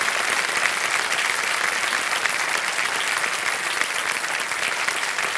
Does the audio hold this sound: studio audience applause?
yes